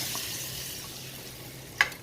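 Hot chili powder tempering sizzles as it is added to Palakkad-style roasted tamarind curry, a steady, soft frying hiss that fades slightly, followed by a single short clink near the end.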